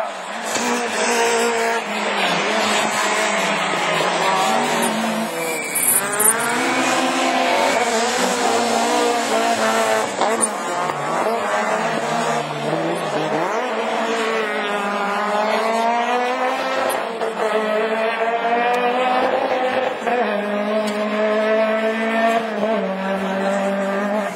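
Peugeot 207 rallycross cars racing in a division 4 event, with loud continuous engine roar rising and falling through gear changes, revving hard and passing close, occasional tire squeal, no talk.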